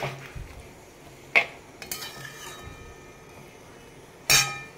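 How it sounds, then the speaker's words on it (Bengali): A spoon stirs ginger paste and spices in a metal pot, with a few sharp metallic clinks and scrapes spaced apart over a quiet background. No one speaks. "তো চলো একটু নেড়ে চেড়ে নিলাম।"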